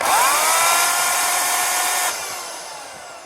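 An Oregon CS1500 electric chainsaw whines loudly at full speed after cutting a big tree, then cuts off abruptly and winds down quickly into a fading whir.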